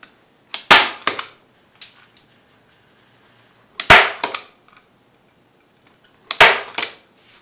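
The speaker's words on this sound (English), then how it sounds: "Staple it in place." Three sharp, loud snaps from a staple gun driving staples into wood for a collapsible table, the bursts spaced a few seconds apart with short mechanical clicks trailing each one.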